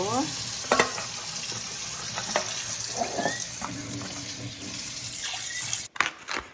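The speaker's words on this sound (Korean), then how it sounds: "얘는 이제 새우가 손질이 다 됐어요 그래서 이렇게 그냥 간단하게 이렇게 헹구면 돼요" Cleaned shrimp rinsed under a running kitchen tap, a steady rushing splash of water with brief clatters and a short break near the end, close and without talk.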